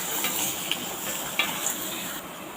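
Spoon stirring urad dal, curry leaves, spices and garlic frying in oil in a pan, a soft continuous sizzle broken by a few light scraping clinks.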